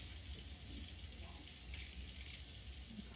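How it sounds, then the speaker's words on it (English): Water running steadily from a kitchen faucet into a sink, a faint, even splashing hiss that continues for a few seconds with no voices. "I can never get the perfect temperature with this faucet."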